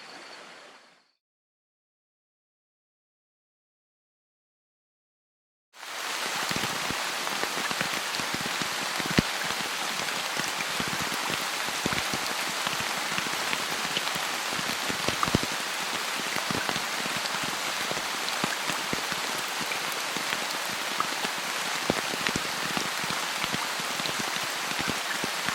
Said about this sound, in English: The rain still hasn't let up